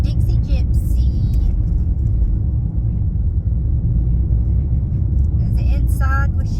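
Steady low road rumble from inside a moving car fills the whole stretch, loud and constant, with a voice faintly present under the engine and tire noise.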